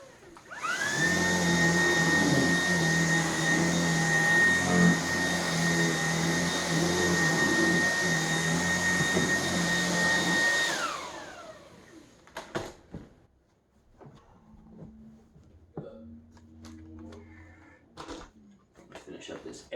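A 2021 stick vacuum cleaner runs on a couch with a loud, steady motor whine and airflow hiss for about ten seconds, then shuts off, leaving quiet handling clicks and knocks.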